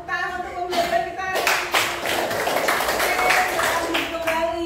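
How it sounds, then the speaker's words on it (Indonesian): Students clapping together in a classroom after a lesson, a loud close burst of rhythmic hand claps that starts suddenly and keeps going, with voices mixed in at the start and end. "tepuk tangan untuk pembelajaran kita"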